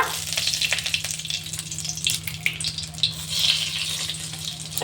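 Bay leaf dropped into hot oil for a Bengali tempering, sizzling and frying steadily up close with faint stirring, no talk.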